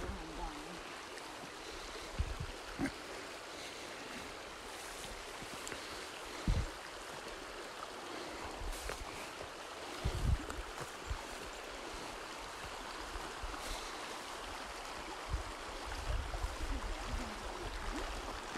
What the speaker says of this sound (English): I'll pour some more water on her.